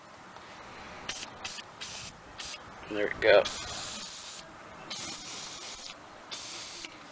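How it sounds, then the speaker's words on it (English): Several short hissing bursts from an aerosol can of penetrating oil sprayed onto a BMW E60 5 Series front wheel bearing area, spaced irregularly, with a brief spoken remark in the middle. "So I'm just going to spray that on a little bit,"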